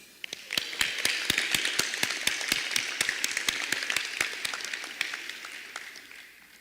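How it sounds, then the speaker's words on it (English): Scattered handclaps ring out at a 2021 high school senior scholarship celebration. Individual claps stay sparse and distinct, building briefly and then thinning out, heard in a fairly quiet hall with no one talking. "Please join me in applause."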